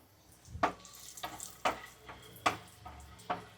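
Cashews and raisins fry in oil over a medium flame while a utensil scrapes the pan at a steady, regular pace. A faint sizzle sits under the repeated scraping.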